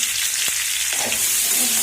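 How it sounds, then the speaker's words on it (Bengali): Cauliflower and onion fry in a pan for egg noodles, a close, loud sizzle with a stirring knock and scrape partway through. "ফুলকপি আর পেঁয়াজ ভাজা হয়ে গেছে"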